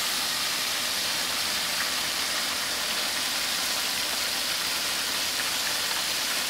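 Country fried steak frying in a pan, giving off a steady, even sizzling hiss that stays at a constant level for several seconds with no talking.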